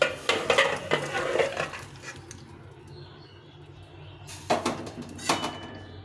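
A pot of fish curry with bori, flat beans and brinjal is lifted off the stove, giving a few sharp metallic clanks and scrapes at the start and again near the end, with quieter kitchen rustle between.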